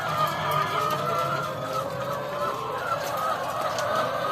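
A flock of laying hens on a poultry farm clucks steadily and softly throughout, a continuous busy chatter of many birds with no talk over it.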